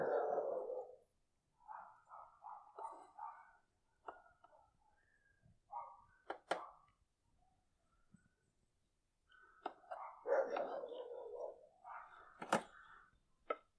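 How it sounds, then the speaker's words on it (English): Dogs inside a home bark and yip in short, scattered bursts through an open garage door at a loose dog outside, sounding moderately distant and fairly quiet, with silent gaps between outbursts. "there's a dog running loose, and he hears my dogs"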